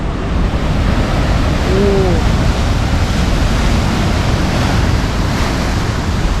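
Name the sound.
ocean waves crashing on the shore, South Africa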